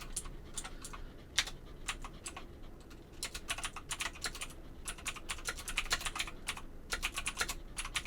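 Fingers type quickly on a computer keyboard, producing dense, irregular clacking keystrokes at close range over a faint steady background hum.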